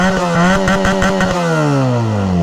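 A Benelli TNT 300 motorcycle engine runs close and loud, throbbing through a few quick revs before the pitch sinks steadily as it settles back toward idle.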